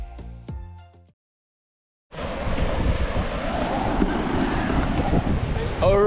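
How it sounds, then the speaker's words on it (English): Ocean waves rolling onto the beach at Big Bay, a steady broadband wash of surf with heavy wind buffeting the microphone, loud and continuous after a short musical snippet and a moment of silence. "The ocean is pretty clear and nice waves"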